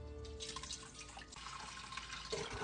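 Beef broth pouring into an Instant Pot, a continuous splashing, trickling flow of liquid close up for a few seconds, with no one talking.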